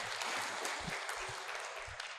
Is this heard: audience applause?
yes